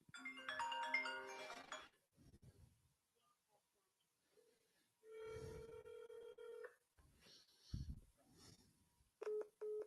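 Telephone keypad dialing tones while calling another number, with a quick run of DTMF beeps followed by ringing and further tone bursts, separated by quiet gaps and brief faint talk.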